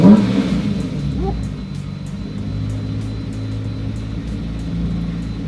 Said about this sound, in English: You hear a lot more with the engine right here.